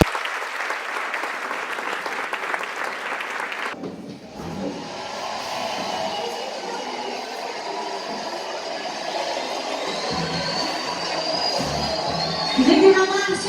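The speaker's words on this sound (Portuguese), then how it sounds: "aplauda o nome do Senhor Jesus." A church congregation applauds during a service, opening with dense, even clapping for several seconds. The applause then gives way to a broad roomy wash of sound with fainter activity and some rising tones near the end.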